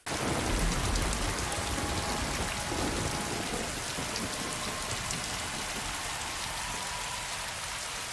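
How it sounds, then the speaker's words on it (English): Steady, dense rain falls and patters on a surface, continuous and loud from start to finish with no voices, the kind of downpour striking armor in a scene from House of the Dragon. "the rain on Daemon's armor in that scene as well"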